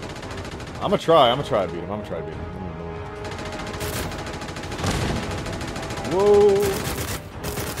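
Rocket weapon firing in Fallout 4 In Dreams: loud bursts of launches and blasts, one cluster early and more several seconds later, with someone talking and exclaiming over them.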